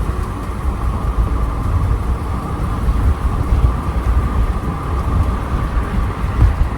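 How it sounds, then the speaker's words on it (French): Dense, steady roar of heavy hail pounding down in a violent thunderstorm between Seurre and Dole, France, a loud continuous hiss and rumble with no voices. "Il y a un très gros rideau de grêle."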